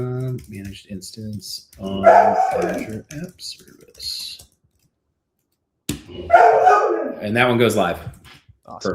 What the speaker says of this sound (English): Apologies if you hear a dog barking in the background.